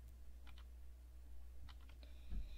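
Computer keyboard keys are pressed repeatedly for a Control R shortcut, giving a few quiet, scattered clicks and taps in small clusters against a low, steady background hum, with no talking.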